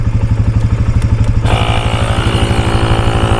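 A Milwaukee battery-powered air tool runs close and loud with a fast, pulsing mechanical chug, its pitch brightening and gaining a harsher hiss partway through.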